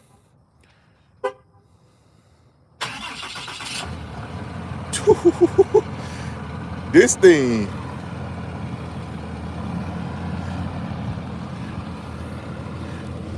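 A Ram pickup truck cold-starts after a brief pause. The engine catches with a sudden roar, then settles into a steady, rumbling idle. Several short horn-like beeps sound over it, and someone speaks briefly.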